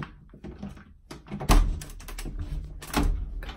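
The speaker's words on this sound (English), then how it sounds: "Let me just unlock it for you." A door is unlocked and swung open onto a backyard deck, with soft fumbling and then two solid clunks of the latch and frame, close by in a quiet room.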